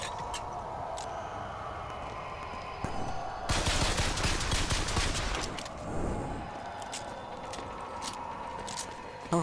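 Pistol gunfire in the video game Bioshock Infinite, a dense burst of rapid shots and impacts swelling loud in the middle of the stretch, with scattered sharper cracks before and after over steady game ambience.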